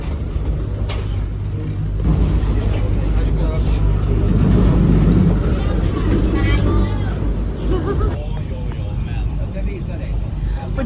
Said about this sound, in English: now we're heading onto the boat